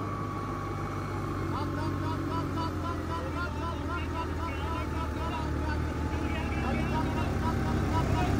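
A 4x4 tractor stuck in mud, its engine holding a steady, rough drone that stays loud and unbroken throughout, with people talking over it.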